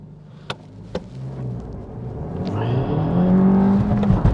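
A Suzuki Swift Sport Hybrid pulls away from standstill after a couple of sharp clicks, its engine note rising steadily and growing louder as it accelerates hard with slight wheelspin, heard from inside the car.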